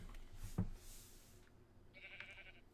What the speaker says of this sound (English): we just naturally found a pink sheep